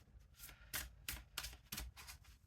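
Tarot cards shuffled by hand, a run of about six quick riffling bursts, soft and close, with no talk.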